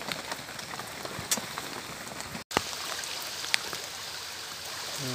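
Rain falling at a wild hammock camp beside a creek makes a dense, continuous patter with scattered sharper drips. There is a brief dropout partway through.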